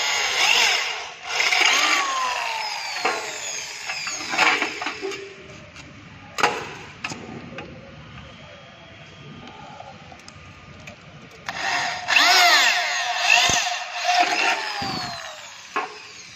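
A drill machine bores a hole, producing loud, harsh whirring and grinding bursts that start and stop repeatedly, with rising and falling pitch and quieter gaps in between.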